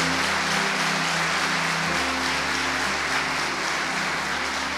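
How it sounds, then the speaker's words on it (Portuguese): A church congregation applauds together during an evening worship service, a steady, dense wash of clapping that holds at an even level throughout with no speech over it. "Então eu quero que você dê um aplauso a Ele, por esta noite que estamos na sua presença."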